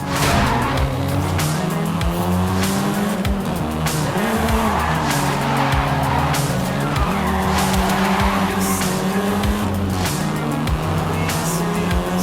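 A Volkswagen Golf R races in Forza Horizon 5, engine roaring continuously while tires squeal and skid repeatedly through corners, loud and close.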